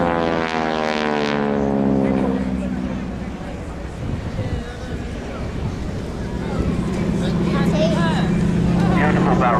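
A constant-speed propeller aircraft performs a barrel roll at the Shoreham airshow, its engine drone rising and falling over several seconds, strong at first, fading in the middle, then swelling again, with a commentator speaking throughout.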